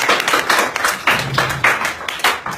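Applause from an audience at a magic show, a steady patter of clapping hands with louder bursts, fairly close and with no talk over it.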